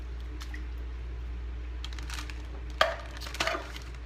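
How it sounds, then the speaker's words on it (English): Canned diced tomatoes slide out of the can into a crockpot with wet squishing plops and a light clink, near and short, over a low steady hum. "on top of that, I'm gonna put this can of diced tomatoes"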